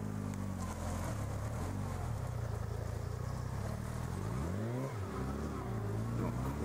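A car engine revs at a sporting trial, rising and falling throttle surges and a swooping rev over continuous rumble, moderately near, mixed with faint crowd or commentary.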